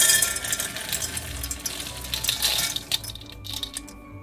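Ingredients poured onto a parchment-lined baking pan make a steady, close rattling patter that swells and thins over roughly four seconds, with no voices.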